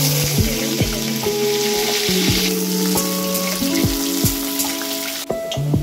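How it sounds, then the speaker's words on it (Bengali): Steady crackling sizzle of bitter gourd frying in hot oil in a wok, close and fairly loud, with soft music playing underneath. "কড়াইয়ে তেল গরম করে নিয়েছি, এবার আমি উচ্ছে"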